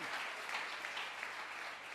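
Church congregation clapping hands together, a dense continuous patter of many hands at moderate volume, steady throughout.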